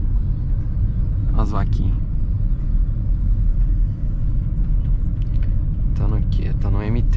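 A BMW 320i rumbles along a dirt road in the countryside, its engine and road noise forming a loud, steady low drone throughout, while people talk briefly over it inside the car.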